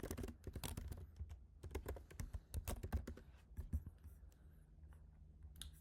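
Typing on a computer keyboard while a pip install command is entered. Bursts of quick, faint key clicks come in irregular clusters with short pauses between them, recorded close in a quiet room.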